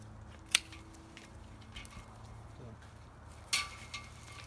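Pruning shears cutting an unripened green grapevine cane during autumn pruning, two sharp snips a few seconds apart plus a faint later click, set against quiet outdoor background.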